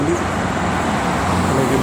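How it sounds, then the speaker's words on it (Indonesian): A bus among steady traffic on the Jakarta–Cikampek toll road, a loud continuous roadway rumble and engine drone from passing vehicles, with a person talking over it. "Ini ada bis dari barat ya"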